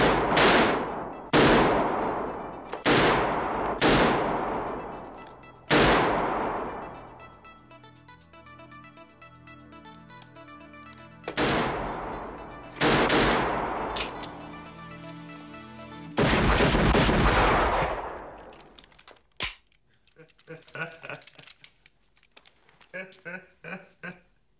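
Gunshots ring out at a virtual simulated shooting range, loud single cracks and short bursts spaced irregularly with lingering echoes, followed by quieter rapid clatters near the end.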